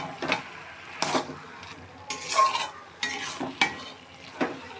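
Carrot halwa (gajar halwa) being stirred in a pan, a spoon scraping and pushing the thick mixture in repeated strokes about once a second, with a soft sizzle underneath and no voices.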